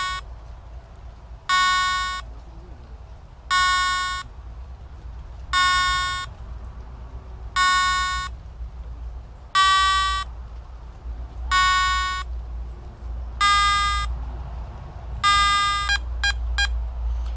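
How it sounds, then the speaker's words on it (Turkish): A Garrett ATX metal detector emits a series of evenly spaced electronic beeps, about eight in a row, ending with a few quick short blips over a low hum. "3 tane kesik kesik sinyal sesi verecek. Bip bip bip tarzında."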